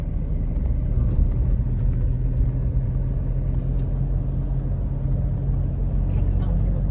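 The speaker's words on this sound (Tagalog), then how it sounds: "Truck sound, di ba?" A truck drives along a narrow rural road between Burgos and Bani in Pangasinan, a steady low engine rumble holding close and constant throughout, with a voice talking over it.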